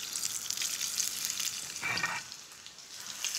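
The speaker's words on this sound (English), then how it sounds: "A good glug of olive oil. And all we do is fry it for a couple of minutes on each side until it's golden brown." Chicken pieces fry in a good glug of olive oil in a hot pan, giving a steady, close crackling sizzle that swells briefly midway, with no voices over it.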